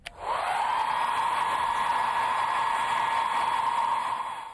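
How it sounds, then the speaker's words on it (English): A handheld blow dryer switches on with a click and runs as a steady, loud, even whoosh close by, fading slightly at the end, with no talking. "Blow dryer."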